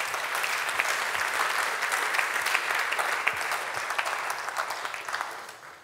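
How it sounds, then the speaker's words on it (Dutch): Applause from an audience at a public lecture on child poverty in Friesland, steady clapping with a few distinct sharp claps, fading out near the end. "En een dijk van een applaus waard."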